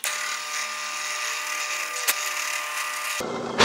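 A drill bores into a small wooden block tacked on with glue for an automata base, a steady high whine for about three seconds. It cuts off abruptly, followed by a brief clatter at the end.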